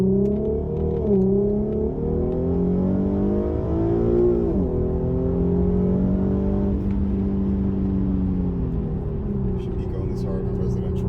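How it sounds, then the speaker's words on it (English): Infiniti Q50 with a 3.7-liter VQ V6 and Invidia Gemini exhaust turning around on a street, a close, steady exhaust drone rising and falling through several light throttle swells for about eleven seconds with no talk. "I hope you guys can hear what this sounds like."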